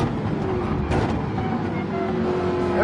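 A Ford Mustang GT4 race car in Gran Turismo 7 drones with a steady engine roar under a dense noisy rumble, holding one note with slight pitch shifts.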